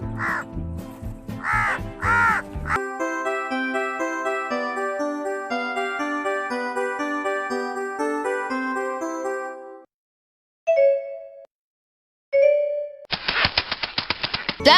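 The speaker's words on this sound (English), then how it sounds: "This is a crow." A crow caws in a few harsh, separate calls near the start, followed by a long stretch of tonal chiming music and a couple of short bell-like dings, then a burst of rapid clicking.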